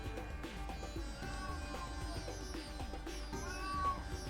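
A cat meows in the video game 3D Dot Game Heroes, a drawn-out call over continuous game music and sound effects, with no talking.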